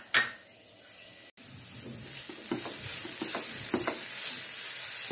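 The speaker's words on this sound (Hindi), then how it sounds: "ऑयल गर्म होते पहले पपाया को फ्राई कर लूँगी, हल्का सा सॉफ्ट कर लूँगी" Raw papaya pieces frying in half a spoon of oil in a pan, a soft steady sizzle with a few scraping stirs and light knocks, close and alone.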